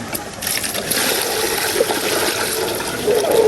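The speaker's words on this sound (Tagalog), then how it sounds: "nagpapatabo po ako ng tubig at huhugasan po natin itong alimango" Water runs and splashes steadily while being poured to wash crabs, a continuous gushing trickle heard up close with no talking.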